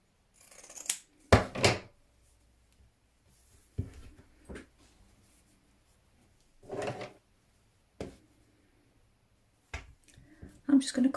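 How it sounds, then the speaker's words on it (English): Scissors snip through recycled material while a Christmas wreath is being crafted, giving several short, close cuts spaced out by quiet pauses, with a voice talking at times. "I'm just going to cut that again because that's a bit raggy at the bottom of there."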